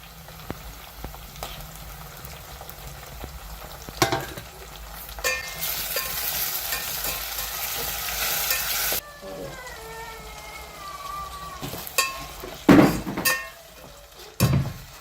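Ginger paste and tomatoes frying in a pan for a goat offal curry: a close, steady sizzle that swells into a loud hiss partway through, broken by a few sharp clatters of a spoon on the pan near the end.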